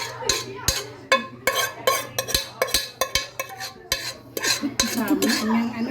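A utensil stirs palabok in a cooking pot, making repeated sharp metal clanks and scrapes in an uneven rhythm, close by, with a faint sizzle beneath.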